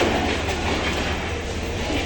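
A passenger train rumbles past loudly and close at Kamalapur railway station, a continuous roar of wheels and carriages with a faint rhythmic clatter.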